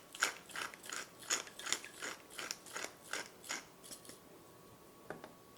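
A pepper mill grinds black pepper in a quick run of about a dozen crisp ratcheting crunches, close and quiet, then slows to a few final twists with no voices.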